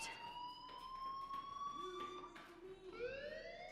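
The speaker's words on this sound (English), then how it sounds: "do you hear that fire alarm? That means you should be outside." A fire alarm wails in the video game Life is Strange, with sweeping electronic tones that rise and repeat at a steady moderate level over a faint background.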